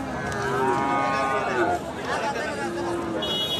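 Cattle low in drawn-out moos at a large rural cattle market in Kasba, Comilla, heard close over a busy background of crowd chatter and people talking.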